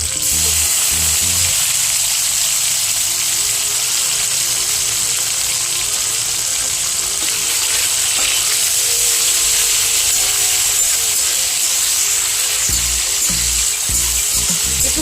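Bottle gourd with chopped tomatoes and green chillies frying in a pan, a loud, steady hiss and crackle of oil that runs without pause and with no voices over it.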